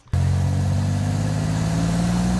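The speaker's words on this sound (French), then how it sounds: "il démarre la bagnole et ça part" A car engine turns over and catches, then runs steadily with a low, loud droning hum that holds through to the end.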